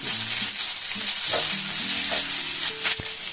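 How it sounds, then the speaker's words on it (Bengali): Finely chopped small capsicum frying in a pan with onions for pav bhaji, making a close, continuous loud hissing sizzle with light stirring. "এখন আমি দিয়ে দেবো ক্যাপসিকামগুলো।"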